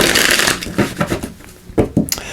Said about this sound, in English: let me just give these a quick shuffle